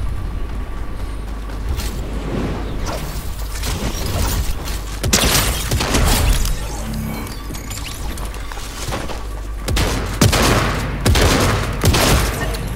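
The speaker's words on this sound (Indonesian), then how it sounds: "Terus dari tadi ada suara-suara orang nembak." Rapid bursts of enemy gunfire crackle repeatedly in a Fortnite PC match, loud and close with scattered louder volleys and shattering impacts across the clip, no voices.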